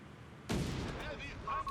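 Creeping barrage artillery fire in Company of Heroes 3 during a 1v1 match: a sudden loud blast followed by rumbling impacts and a brief tonal game signal, with a voice talking over it.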